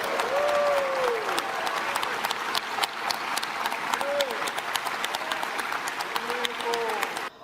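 A packed joint session of Congress applauds Japanese Prime Minister Kishida's speech with loud, continuous clapping, while a few brief whistles or cheering voices rise above it.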